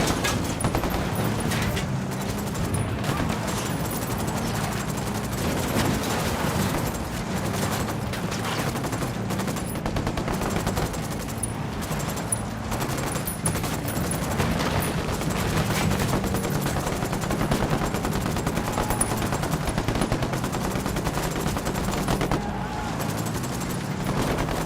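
Sustained gunfire in the Ghost Recon Wildlands video game, with a dense, steady barrage of rapid shots and bursts that stays loud and continuous throughout, with game voices mixed in underneath.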